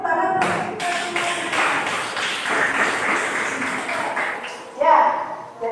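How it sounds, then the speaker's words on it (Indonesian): A classroom of children clapping their hands in applause during a civics lesson, a dense burst of many claps lasting several seconds, with a louder swell near the end. "tepuk tangan untuk kita semua"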